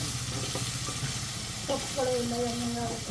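Onions frying in a pot for Sakleshpur dum biryani, a steady close sizzle running throughout, with brief clinks and a few faint tonal squeaks near the end.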